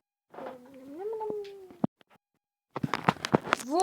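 A house cat named Kesha lets out a long, rising, drawn-out meow up close, then goes quiet before a burst of shorter, choppy chirps and cries.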